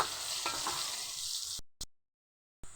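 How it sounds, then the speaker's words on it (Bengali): Potatoes seasoned with salt and turmeric sizzle in hot oil, a dense close hiss for about a second and a half before cutting out, then a brief faint return. "এবার লাল লাল করে ভাজা হতে দেবো"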